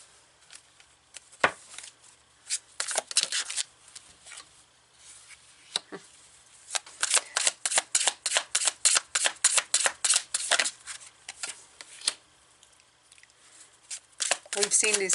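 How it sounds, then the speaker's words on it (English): Tarot cards shuffled by hand at close range, a quick run of crisp riffling flicks and slaps, with a few isolated card snaps before and after. "So let's pull some more cards here."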